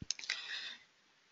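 Computer mouse clicking in software, with a few quick close clicks in a short burst followed by a brief soft rattle that fades away.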